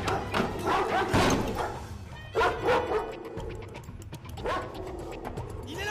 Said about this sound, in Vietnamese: Tôi ở trong nhà, giờ bị chó đuổi.